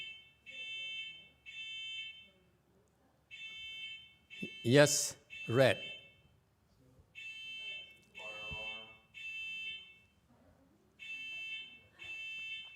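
A building fire alarm sounds in repeated short bursts of a shrill, harsh electronic tone with gaps between them, and people talk loudly over it in the middle.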